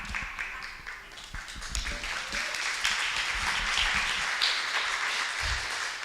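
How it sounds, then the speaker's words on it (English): Audience applause at a live conference, a sustained wash of many hands clapping that swells and holds steady throughout, with a few low thumps underneath and no clear talk. "They're clapping at that more than anything else."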